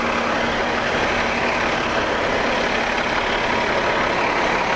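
Buses and heavy traffic pass along a busy London street near Westminster Station on the South Bank, a constant loud engine rumble and road noise with no gaps.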